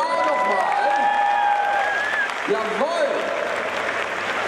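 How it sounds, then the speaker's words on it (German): Crowd applause and cheering for a costume group at a Blizzard costume contest on a gaming convention stage, steady and fairly loud throughout, with a voice speaking briefly over it. "Applaus hier für Gruppe A nochmal"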